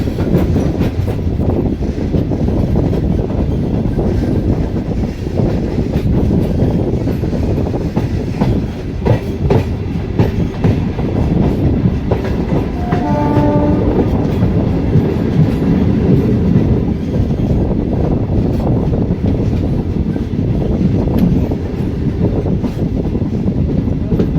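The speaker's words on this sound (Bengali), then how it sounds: "আমাদের ট্রেন এসে পৌঁছালো যাত্রাপথের অন্যতম স্টেশন" Passenger train running on the Masagram to Bankura line, on the Howrah to Purulia route, heard from aboard as a loud, continuous rumble with rhythmic wheel clatter and a brief tonal sound midway.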